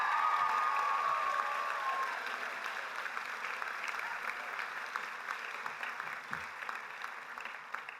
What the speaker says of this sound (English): deserves another round of applause